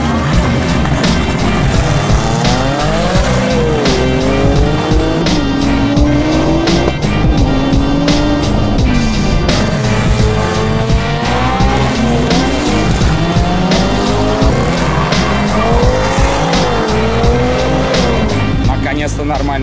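A Mustang launches off the start line at a drag racing event, its engine revving hard in rising and falling sweeps while tires squeal loudly, all under continuous close, loud noise.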